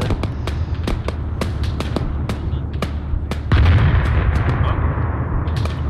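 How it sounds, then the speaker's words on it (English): A loud explosion booms in the middle of a tense defense in Chernarus in a survival video game, following a run of sharp distant gunshots and leaving a rumbling wash behind it. "One random fucking explosion."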